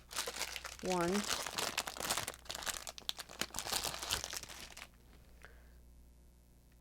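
Paper envelopes rustle and crinkle close by in steady, busy handling before the noise cuts off, with a short spoken word partway through.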